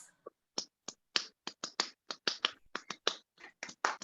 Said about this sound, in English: Can we have some claps?